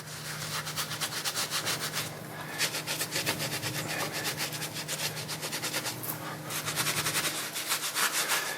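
Old paint is rubbed off by hand in quick, rhythmic back-and-forth strokes, a close, scratchy scrubbing that continues with only brief pauses.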